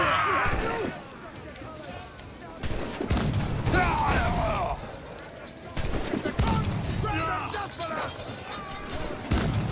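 Gunfire and clashing combat noise in Assassin's Creed IV: Black Flag, several loud bursts and sharp impacts separated by brief lulls, mixed with shouting voices in the fray.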